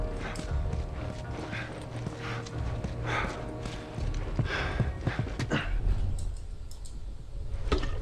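Horses in The Last of Us, with steady clip-clopping hooves and occasional snorts close by, a faint whinny among them, and low game ambience throughout.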